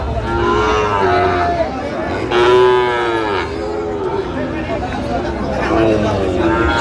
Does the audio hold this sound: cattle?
yes